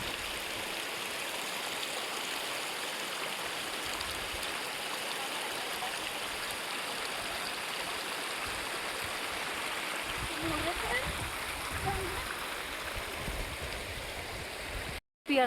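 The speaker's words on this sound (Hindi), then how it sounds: "मेरे ऊपर बहुत सारी पानी की फुहारें आ रही थी दूर बैठ कर भी।" Steady broadband rush of waterfall spray and flowing stream water along the Kedarnath pilgrimage trek, loud and continuous throughout with a brief drop-out near the end and faint background voices.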